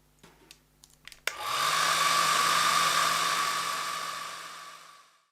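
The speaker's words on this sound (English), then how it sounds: "Now give that a very quick dry with a hairdryer" A hair dryer drying watercolor paint switches on after a few small clicks and blows with a loud, steady whirring roar that fades slightly toward the end.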